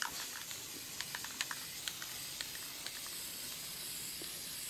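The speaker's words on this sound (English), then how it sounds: "Larry's got his birdhouse built and he's spraying some paint on it." Spray paint being applied to a newly built wooden bluebird house, a steady soft hiss with short clicks and taps scattered through it, close by and without speech.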